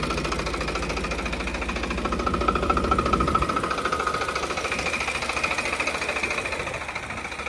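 Farmtrac 55 HP three-cylinder tractor engine runs with a steady, throbbing diesel knock, rising slightly in load midway before settling back to an even, close, vibrating rhythm.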